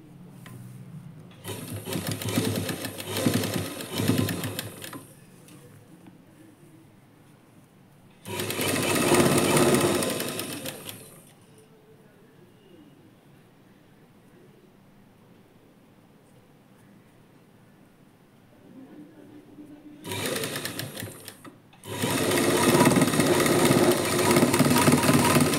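A sewing machine stitches a lined blouse in several separate bursts of rapid, buzzing stitching, close and fairly loud, with quiet gaps between the runs.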